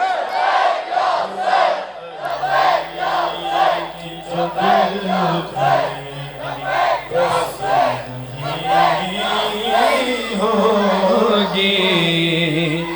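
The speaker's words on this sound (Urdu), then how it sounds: "دونوں ہاتھ اٹھا کے نعرے لگائیں لبیک یا حسین." Large Muharram gathering chanting Labbaik ya Hussain in unison, a loud rhythmic call-and-response of repeated slogans from many voices, rising and falling in steady bursts for the whole stretch.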